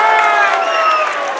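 Pinckneyville fans at a boys 2A regional basketball game cheer and clap in a dense, steady crowd roar, with shouting voices mixed through the short burst.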